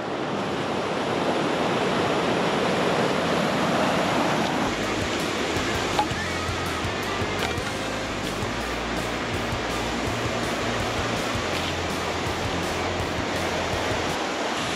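The Cachoeira das Costas waterfall on the Bocaina trail in Brazil roars as a constant, loud rush of falling water, with wind buffeting the microphone and no talking.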